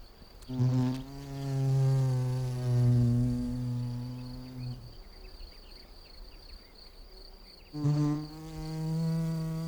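Wild bees at a nest entrance: a loud, steady, close droning buzz that holds for several seconds, breaks off, then returns, with faint higher insect whine in the background.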